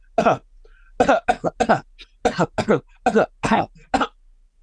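A voice imitates a coughing fit: about a dozen harsh, close coughs in quick, uneven bursts with short gaps between them.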